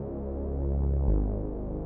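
Detuned sawtooth synth Reese bass, a Hoover-style low tone built from a second oscillator pitched slightly down, sustaining loud and alone with a slow throbbing phasing swell.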